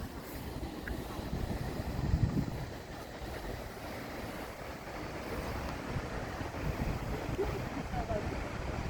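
A waterfall in Ireland, seen up close, gives a steady, dense rush of broadband water noise, fairly loud and unbroken, with gusts of wind buffeting the microphone.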